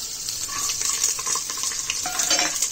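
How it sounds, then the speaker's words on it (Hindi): Garlic frying in hot oil with bay leaf and cumin in a pressure cooker, a steady broadband sizzle with light stirring scrapes throughout, close and continuous with no talk. "लहसुन डाल दे रहे हैं।"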